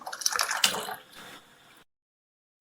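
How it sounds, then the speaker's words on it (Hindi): Cold water from the fridge is poured into simmering Kashmiri tea in a pot, a short splashing gush that fades into quiet bubbling before going silent. "तो इस तरह अब 3 बार इस तरह मैं पानी डालूंगी ठंडा फ्रिज का।"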